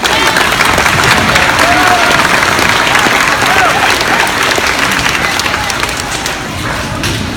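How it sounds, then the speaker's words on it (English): Loud, continuous applause from an audience at a school event for fifth graders, thick and steady throughout with some crowd noise mixed in. "How about a round of applause for them?"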